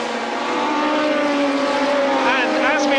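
Formula 2 Spirit race cars from 1982 sweep through the chicane at Silverstone, a loud sustained engine drone with shifting pitch as they pass close by under race commentary.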